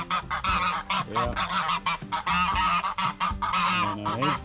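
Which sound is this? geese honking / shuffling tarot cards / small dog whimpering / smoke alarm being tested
geese honking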